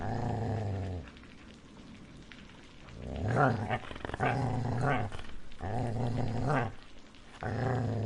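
A dog growls low and deep several times in close succession, each rumble lasting a second or more, with a soft rain-like hiss between them.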